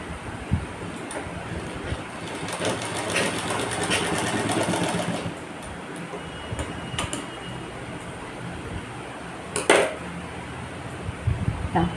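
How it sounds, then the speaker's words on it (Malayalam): A sewing machine stitching a straight seam from corner to corner runs in a steady close whirring burst, then stops, followed by a few clicks and handling knocks. "ഈ ഒരു കോർണർ തൊട്ട് ഈ ഒരു കോർണർ വരെ സ്ട്രെയിറ്റ് വെച്ച് സ്റ്റിച്ച് ചെയ്തെടുക്കാം"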